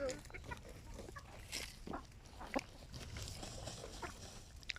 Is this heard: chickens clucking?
yes